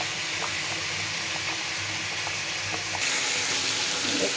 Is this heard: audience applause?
no